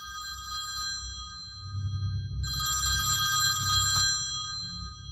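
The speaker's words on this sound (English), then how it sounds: "the unexplainable sound of the phone ringing" A telephone rings indoors with a continuous, steady electronic trill that grows louder partway through, heard alone in a quiet, echoing house.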